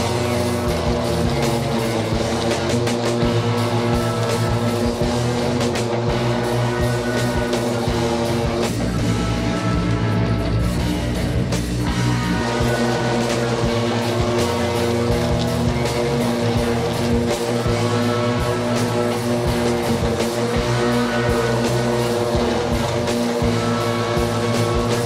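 An EGO 52-inch zero-turn battery ride-on mower runs in turbo mode, giving a loud, steady whine and hum with layered tones that holds nearly unbroken from start to finish, close up and with no talking.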